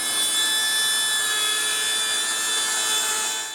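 A Festool CSC SYS 50 table saw trims a face off a piece of wood, its blade whining loudly and steadily throughout the cut with a high, tonal motor pitch.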